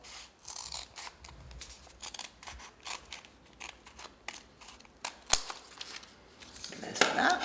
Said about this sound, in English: with our scissors, we're going to cut along